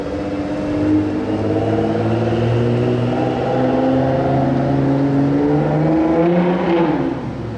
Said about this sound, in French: Ça y est, la Ford GT est allumée